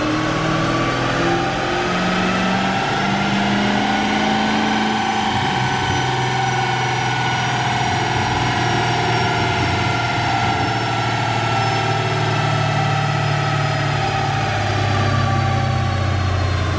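A 2023 Dodge Charger Hellcat runs on a chassis dyno, its engine droning steadily and loudly throughout with a low rumble that shifts pitch partway through as the revs change.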